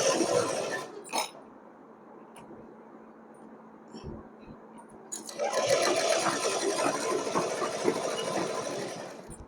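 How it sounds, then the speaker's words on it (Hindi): A sewing machine stitches a princess-cut blouse with a half-inch seam margin, running in short starts and pauses before settling into a steady, loud mechanical whir. "यहाँ पर हम इस तरीके से सिलाई लगाते जाएंगे, आधा इंच का मार्जिन देते हुए इस तरीके से पूरे पे सिलाई लगाएंगे"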